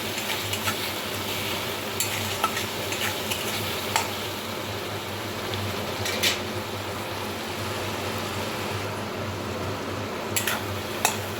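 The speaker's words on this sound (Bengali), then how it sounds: "তিন থেকে 4 মিনিটের মতো খুব ভালোভাবে মশলাটা দিয়ে ভেজে নিলাম" Mixed vegetables fry with mustard, green chilli and spices in a pan, a steady sizzle running underneath while a spatula stirs and scrapes in short, irregular clicks and scuffs, close and alone.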